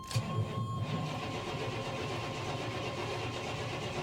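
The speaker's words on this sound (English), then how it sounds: "She's cranking. Yeah, she's not starting." A government surplus vehicle's engine cranks without catching: the starter grinds steadily and closely, with a sharp jolt at the start and no firing or revving.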